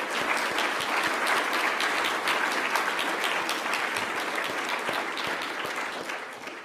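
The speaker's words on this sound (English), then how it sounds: "Let's all give him a round of applause." University lecture audience in Melbourne applauding, a dense, even patter of many hands clapping at moderate distance, sustained and fading slightly at the end.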